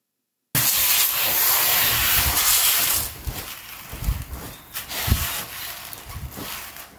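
Sun-dried rice and lentil halim mix rustles and hisses as it is poured and spread by hand, first a continuous bright pour, then scattered grainy shuffles and soft thumps.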